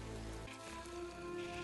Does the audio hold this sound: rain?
yes